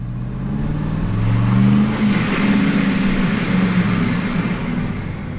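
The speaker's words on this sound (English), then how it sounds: "I can give you guys a nice little sound clip of how the Supercharger sounds" Chevrolet Silverado with a built motor, a cam and a TorqStorm supercharger pulls hard on the road, a deep engine drone rising in pitch under a wash of road and wind noise, loud and continuous, with no talk.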